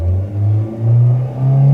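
A Hyundai Sonata Hybrid engine hums low and close as the accelerator is pressed lightly, its pitch rising in smooth, gentle swells with no voices.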